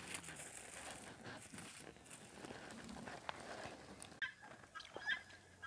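Free-range chickens and a Suro Pedrez rooster give faint, scattered clucks and short calls from a distance over soft background noise, with no talk.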